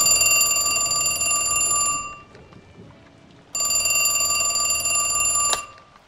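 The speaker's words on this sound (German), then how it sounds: "Das Klingeln des Telefons schreckte mich aus meiner Lethargie." A telephone rings in two bursts of bright, rapid electric bell trilling with a short pause between them, loud and close in a quiet room.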